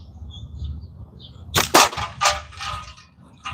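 A slingshot shot strikes a Dr. Pepper can outdoors: a sharp metallic crack followed by a second hit and a few fading rattles after a quiet stretch of low background hum.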